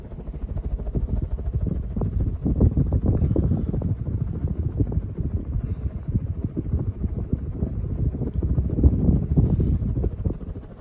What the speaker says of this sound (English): give you guys a close-up here so you can hear the wind noise